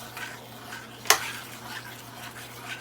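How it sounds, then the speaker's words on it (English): Gravy being stirred in a pan to break up lumps, soft scraping swishes with one sharp utensil clink against the pan, quiet and close. "if you get lumps in your gravy, just stir them out."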